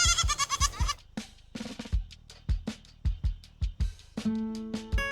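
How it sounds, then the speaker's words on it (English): A goat bleats repeatedly in short, loud, quavering calls, several in quick succession, close and clear with no talking. "goat"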